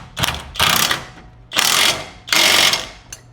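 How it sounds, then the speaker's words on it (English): Impact wrench tightening a nut on a 2025 Chevy Silverado 2500 HD rear shock: four loud, close rattling bursts of hammering, each under a second, with brief pauses between, then a short final blip. "Now we're just gonna bring in this impact wrench, and then just go ahead and tighten down"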